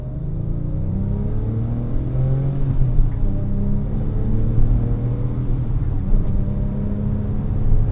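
Porsche 911 Turbo 997.1 with a manual gearbox and coilovers driving on the road, heard from inside the cabin: a steady, loud engine rumble that swells with revving and acceleration throughout, with no talk.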